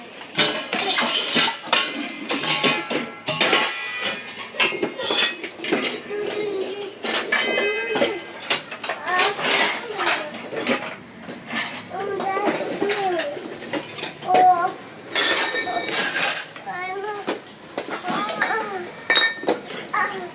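Dishes and utensils clink and clatter as they are moved between kitchen cupboard compartments, with repeated sharp metallic taps scattered through the clip beneath nearly continuous talking.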